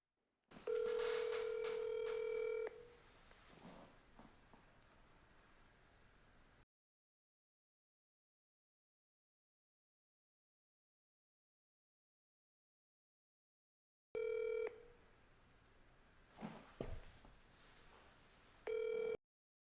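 Telephone audio from a sales cold call to a sports equipment manufacturer: a steady dial tone and quick dialing tones, then after a long silence a short burst of ringing tones, heard clearly and alone.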